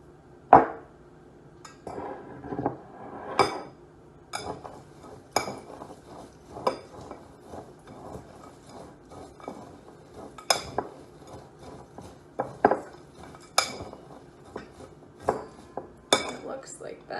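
Dry hiking snack ingredients with a dash of cinnamon are stirred in a bowl, giving a steady run of light clinks and scrapes of a utensil against the dish, with occasional sharper knocks, close and fairly quiet.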